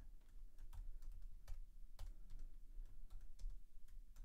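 Keys on a computer keyboard are pressed to type shortcuts. The clicks are soft, irregular and fairly faint, with occasional louder taps and no speech.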